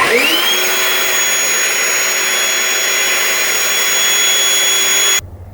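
A Ryobi One+ 18V cordless wet/dry shop vacuum on a 5-amp battery runs with a loud, steady whine and rushing airflow, then cuts off abruptly near the end as the battery dies, leaving quiet.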